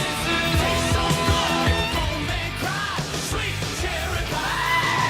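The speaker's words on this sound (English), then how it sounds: "We got a screaming goat." A goat screams loudly in bursts, its yelling cries rising and falling over a few seconds alone and close.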